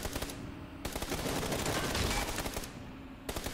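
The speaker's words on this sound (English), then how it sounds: "I was shooting his teammate." Automatic rifle fire in PUBG on console, a sustained loud burst of rapid shots lasting a few seconds, bracketed by quieter single cracks before and after.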